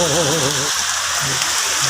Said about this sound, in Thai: ฝนตกใช่ไหมฝนตก